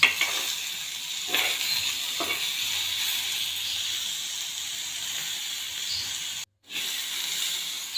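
Chole masala sautés in a pan with a continuous low sizzle and hiss, broken by a couple of stirring scrapes, close and steady, with a short silent gap near the end and no voices.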